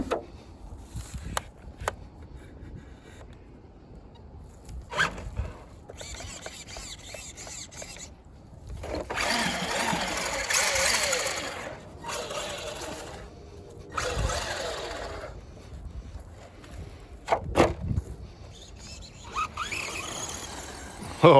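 Duratrax Evader RC stadium truck, an old-school model, driving with a whining electric motor that rises and falls in bursts, tyres squealing on turns, with scattered clicks and knocks throughout.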